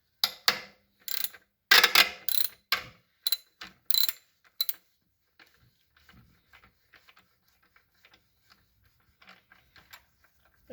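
Ratchet and 12 mm socket loosening a bolt near the alternator of a 2010 Toyota Corolla during water pump replacement, a burst of close, quick clicking strokes for about five seconds, then faint sparse ticks and rustles.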